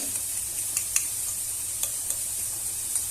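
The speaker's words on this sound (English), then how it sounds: "The more you mix it, the thicker it will be." Egg, cheese and pepper being mixed into a carbonara sauce, a quiet continuous wet hiss with faint light ticks of the utensil against the bowl, close and steady with no talking.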